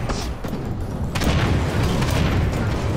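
Dense, rumbling booms and bursts of gunfire-like blasts as tanks are blown apart in a tank war simulator game, continuous and loud with heavy low-end throughout, growing fuller midway.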